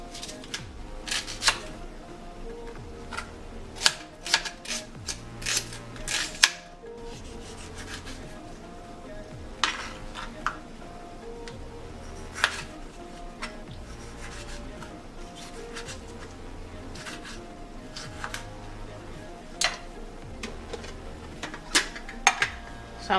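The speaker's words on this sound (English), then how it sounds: "So now I will slice my onion." A knife slices onion on a board for tomato sauce for grilled tilapia, with a string of sharp, uneven chopping taps and faint scraping. No voices.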